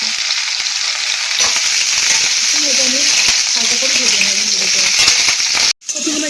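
Cauliflower pieces frying in hot oil give a loud, steady sizzle, close up, with occasional stirring scrapes and a brief break near the end.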